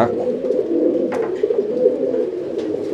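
Pigeons in a loft coo steadily, a low, murmuring, continuous cooing from close by, with faint chirps breaking in now and then.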